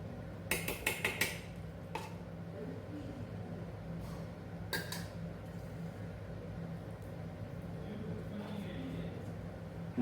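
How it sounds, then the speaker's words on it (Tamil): Soaked basmati rice being stirred in a pot for chicken biryani, with a quick run of metal clinks from a spoon against the pot, then a few more later over a low background hum. "அதை ஆட் பண்ணி கொஞ்சம் நல்லா கிண்டி விட்டுட்டு"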